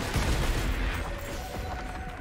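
An enemy in Risk of Rain 2 fires a dense, continuous burst of gunfire, a loud rumbling barrage that fills the whole stretch with no voices over it.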